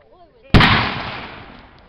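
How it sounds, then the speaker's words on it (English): A single loud, sharp cannon blast goes off after a moment of quiet at a Memorial Day shoot, then rolls away in a long fading rumble. "What happened with the cannon?"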